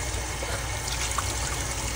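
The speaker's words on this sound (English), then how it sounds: "Let's pour this water in there." Water pours steadily into a jar during a bored-afternoon world-record attempt, a continuous close liquid rush with no voices.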